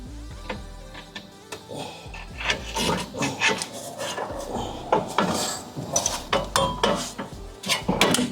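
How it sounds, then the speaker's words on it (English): Pry bar working a part loose on the rear shock absorber of a 2012 Honda CR-Z, close metallic scrapes, knocks and creaks in irregular bursts. "So just pry this out. Put a pry bar."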